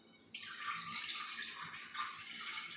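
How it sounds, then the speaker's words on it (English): Milk is poured into a pot while making a no-bake pudding cake, a steady close hissing stream that starts abruptly and runs on evenly with no talk. "into a pot, we're going to pour the milk."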